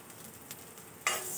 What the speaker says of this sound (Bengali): প্রথমে ডালটা ভেজে নিয়ে একটু সিদ্ধ করে নেব।